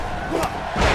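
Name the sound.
wrestling arena crowd cheering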